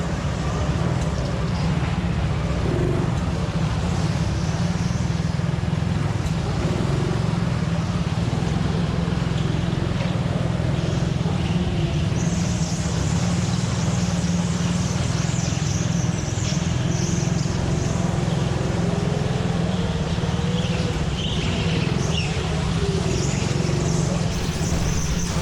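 Onboard a rental go-kart, number 4, racing a session at TeamSport Cambuslang. A loud, close, unbroken engine drone holds steady for the whole stretch, with faint higher whine over the top.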